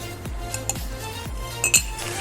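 A spoon taps against a glass while ingredients such as beaten rice and peanuts go in for Malabar avil milk, giving several light clinks with a couple of brighter chimes, heard close by against a steady background hum.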